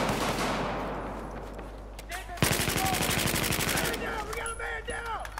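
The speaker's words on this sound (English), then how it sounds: "I hear shooting." Automatic gunfire in a Battlefield 4 Rush multiplayer match: loud, rapid bursts of rattling shots over dense game ambience, with a sharp volley in the middle and more firing after it.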